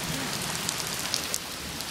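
Hail coming down as a dense, continuous hiss of pelting ice on surfaces, with scattered sharper ticks of individual hailstones striking nearby.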